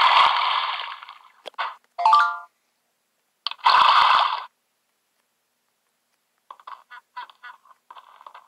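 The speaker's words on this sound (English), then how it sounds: "Notification." A phone plays a short rising electronic notification chime in a quiet room, with a few brief bursts of other sound before and after it.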